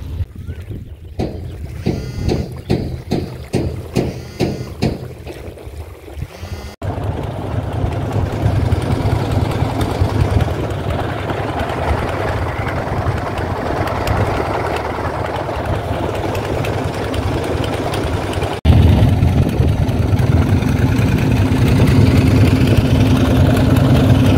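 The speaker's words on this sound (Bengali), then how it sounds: "আমাদের ট্রলার চলে আসছে" A trawler boat engine runs loud and close on the Padma River, a steady low rumbling drone that follows a stretch of rhythmic thumping.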